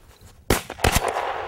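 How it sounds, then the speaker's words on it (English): A single sharp gunshot cracks out in an open field during a hunt, followed by a brief echoing tail and quieter rustling after the blast. "Good shot, Butch."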